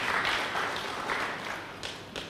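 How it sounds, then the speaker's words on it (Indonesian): Church congregation applauding during a sermon, a moderate wash of clapping from a crowd at some distance, lasting a couple of seconds with a few sharper claps near the end. "Berikan tepuk tangan yang meriah."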